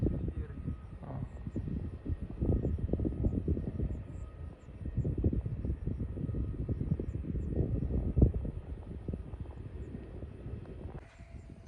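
An airplane landing at Kochi airport produces a broad, continuous engine roar that swells and eases, loud and steady, with people talking nearby.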